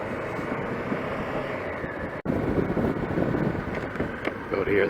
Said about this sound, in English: here it's quite breezy out there